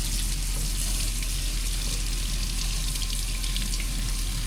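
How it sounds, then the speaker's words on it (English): Room-temperature water runs steadily from a tap into a bowl in a constant, loud gushing hiss, close up, without pauses or voices. "we're gonna add some room temperature water just to cool it down a little bit"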